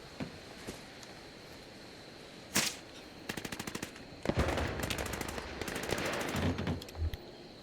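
Gunfire in the video game Fallout 76: a single sharp shot, then rapid bursts of automatic fire in quick repeated runs, fairly close and loud against a quiet game background.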